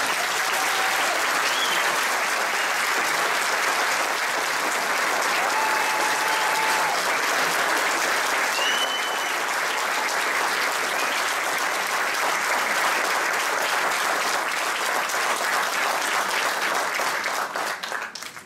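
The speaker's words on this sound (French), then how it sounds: "Je vous demande d'applaudir notre invité." Sustained audience applause for an invited guest at an awards ceremony, dense and even clapping from a large crowd that carries on for many seconds before tapering off at the end, with faint cheers and voices underneath.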